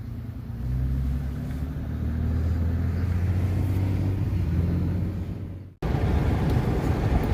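Car driving along rural Pennsylvania roads, a steady low engine and road rumble running continuously near the microphone, briefly dropping out near the end before resuming.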